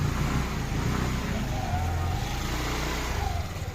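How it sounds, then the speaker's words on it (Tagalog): Kymco Skytown 150cc motorcycle pulling away, its engine revving as a low, fairly faint drone that keeps going against outdoor background noise. "Laka na ng motor, o. 150 lang yan."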